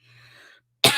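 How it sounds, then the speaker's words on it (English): A single sharp, loud cough bursts out near the end, after a quiet stretch with faint background hum. "I knew I was gonna cough."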